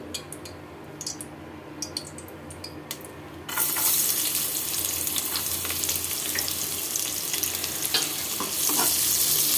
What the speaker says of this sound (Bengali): এখন আমি কেটে রাখা পেঁয়াজ আর রসুন কুচিগুলো দিয়ে দিচ্ছি